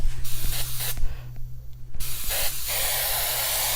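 An airbrush spraying pink paint onto a T-shirt, close hissing bursts of air that start and stop, with a short gap of near silence before a longer steady spray over a low electrical hum.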